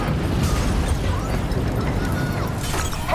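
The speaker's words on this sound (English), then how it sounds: "we have multiple explosions across the facility." Continuous rumbling explosions and booming blasts across a facility in the video game Call of Duty: Black Ops III fill the clip, dense and roaring with scattered crackles and debris, loud and sustained.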